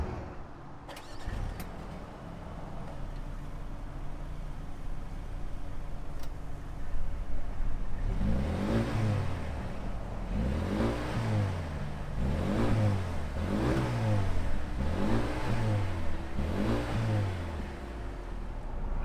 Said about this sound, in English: why don't we fire it up and hear what this AMG A35 sounds like